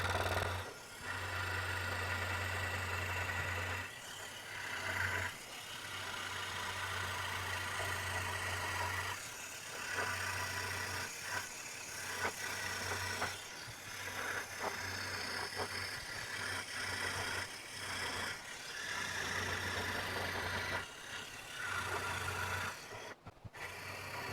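A wood planer motor runs steadily while shaving old pine in a workshop, with a loud continuous hum and drone that dips briefly at several points as the cut bogs the motor down.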